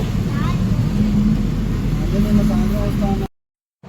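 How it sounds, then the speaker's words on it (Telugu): A van starts moving with its air conditioning still off, a steady low engine and road rumble heard from inside the cabin, with people talking over it until it cuts out near the end. "ఇంకా స్టార్ట్ అయిపోయింది వ్యాన్"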